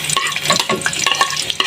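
Oil heating in a pan gives a steady, close sizzle with a busy crackling texture and scattered small pops, running continuously and loud without any talk.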